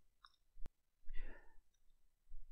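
A single sharp computer mouse click sounds while working in a LibreOffice spreadsheet, followed by soft, murmured speech in a quiet room.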